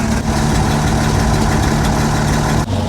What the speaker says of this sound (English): We just let it idle for a while here now to build up the air pressure